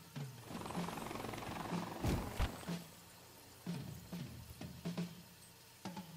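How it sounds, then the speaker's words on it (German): A helicopter flies in the Evil Genius 2 video game, its rotor heard as a quiet, fluttering whir broken by thumping game effects and a few sharp clicks. "Aber es fliegt immer nur ein Hubschrauber."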